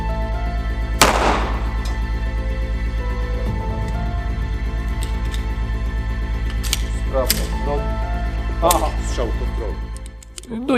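A VIS pistol is handled and reloaded: one sharp metallic clack near the start, then a few lighter clicks later on. Voices talk around the mechanical sounds.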